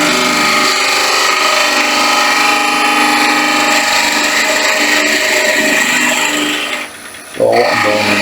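A spindle gouge cutting a wooden whistle spinning on a lathe, a loud continuous humming scrape that holds steady, then drops off briefly near the end before the cut resumes.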